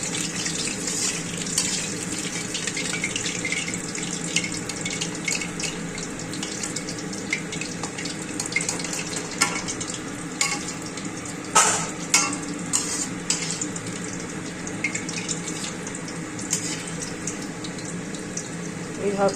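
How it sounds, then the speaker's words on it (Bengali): Steady bubbling sizzle of chicken balls deep frying in hot oil, with scattered scrapes and clinks of a spoon against the pot. "এইভাবে প্রত্যেকটা চিকেন পিস যতগুলো আছে সবগুলো ভাজবো, ভেজে তুলবো।"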